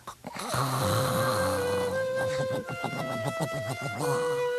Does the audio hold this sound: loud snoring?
yes